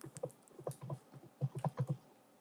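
A command being typed on a computer keyboard while configuring a network switch, with quick irregular clusters of close, soft key clicks, steady bursts of typing with short pauses, no talk.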